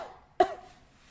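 A voice imitates a single short cough, a sharp burst that fades quickly into a brief vocal tail, in an otherwise quiet room.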